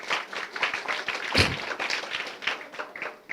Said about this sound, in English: So a round of applause for our lovely speakers,